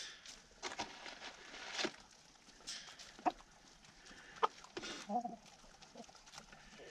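Chickens, including hens named Ophelia and Delphine, cluck faintly in the distance on an off-grid homestead while being fed, with scattered soft calls and rustling.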